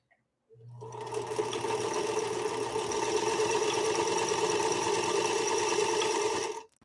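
A Singer Featherweight sewing machine stitches through protected full grain leather in one steady, loud run of rapid mechanical whirring that lasts about six seconds and then stops abruptly.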